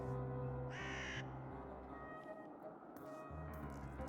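Crows caw in the Whispered World adventure game, one loud close harsh caw and a shorter one later over a steady low droning background.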